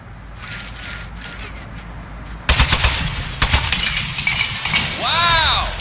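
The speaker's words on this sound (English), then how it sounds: "Oh, man, the turret broke." A turret in the video game Aperture Desk Job breaks apart when shot, with a burst of loud cracking and shattering impacts, rattling debris and a falling electronic warble at the end.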